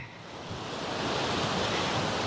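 A dense, steady roar of rushing water in South Korea swells slightly and then holds loud and continuous, with no voices.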